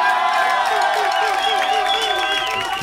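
A live hip-hop concert crowd cheers and shouts loudly and continuously, a dense, close wall of voices and whoops.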